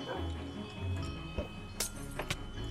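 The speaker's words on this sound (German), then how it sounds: "Oh, ein Hund!" A dog barking in the Minecraft video game, a few short yips and barks popping up over a busy backdrop of game sounds and clinks, fairly faint and mixed in.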